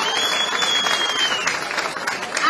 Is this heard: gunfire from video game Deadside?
no